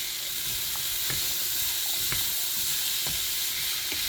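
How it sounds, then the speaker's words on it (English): Mixed vegetables go into a hot pan for coconut curry chickpeas, sizzling steadily up close with a few light stirring clicks and taps spread through. "So I'm going in with my mixed veggie."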